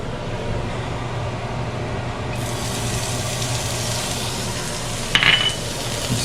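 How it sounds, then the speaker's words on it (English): Green onion sautéing in a little oil for tomato and egg, a steady close hiss of sizzling that brightens partway through, with a brief clatter of stirring near the end and no talking. "saute the green onion."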